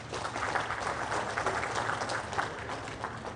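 Audience applause fills a hall at a public event honoring a president, a steady dense clapping that holds at moderate loudness throughout without pause.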